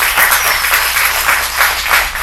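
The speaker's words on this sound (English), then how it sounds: "A round of applause for our panelists." An audience claps for panelists at an arts and film event, a dense burst of applause that stays steady and close for a couple of seconds.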